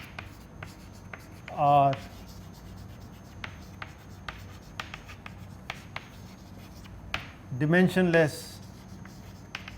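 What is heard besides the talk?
writing on a board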